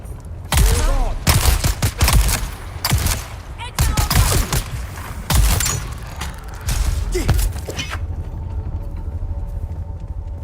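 Shotgun blasts in the video game Dune Awakening, a series of sharp, heavy booms fired in irregular succession with short gaps, then a quieter background hum.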